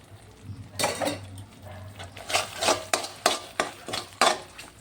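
Fried onions being stirred into chicken curry in a pan, giving a series of scraping, clinking spoon strokes against the metal at a steady rhythm, close and fairly loud, with a low hum underneath and no talking.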